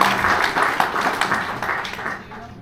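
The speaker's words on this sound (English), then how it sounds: "Let's give him a little round of applause." Audience applause for Brian Sands at a Bowie event at the Bop Stop in Cleveland: a steady wash of many hands clapping in a room, moderately loud and sustained, fading slightly toward the end.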